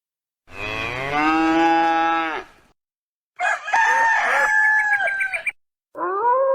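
A cow mooing loudly and up close, one long drawn-out moo, then a rooster crowing in two separate bursts after short silences, with no talk.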